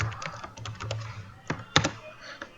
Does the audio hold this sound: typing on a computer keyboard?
yes